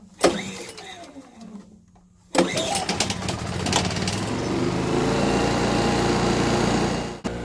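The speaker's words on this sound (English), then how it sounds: "These Yamaha generators start up really, really easy." A Yamaha 3000iS inverter generator running on propane after a gas-to-propane conversion is pull-started: a sharp cord yank and sputter, a brief pause, then a second pull that catches and settles into a steady, close, loud idle.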